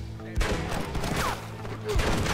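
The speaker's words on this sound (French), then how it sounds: "on va passer au fusil à verrou" Bolt-action rifle fire in the Western video game Red Dead Redemption: two sharp, loud reports about a second and a half apart, over a busy game soundscape.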